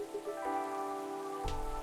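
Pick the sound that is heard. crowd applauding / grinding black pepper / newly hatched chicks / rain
rain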